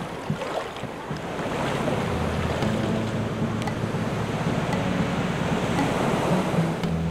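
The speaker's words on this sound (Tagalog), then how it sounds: "Sa tabing dagat" Steady surf washes onto a seashore, a continuous broadband roar with low rumble and some wind buffeting the microphone, with no talk over it.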